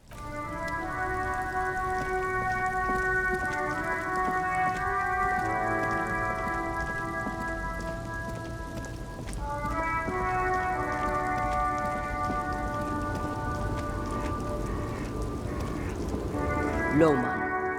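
Steady rain in the video game Disco Elysium makes a continuous soft hiss beneath a sustained, layered musical drone that shifts chords partway through.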